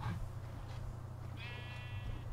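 A single sheep bleats in the Minecraft video game, one short, clear nasal bleat over a low steady background hum.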